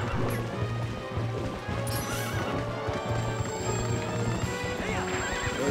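A horse neighs loudly over rapid, galloping hoofbeats in The Legend of Zelda: Twilight Princess HD, with busy game-like background noise throughout.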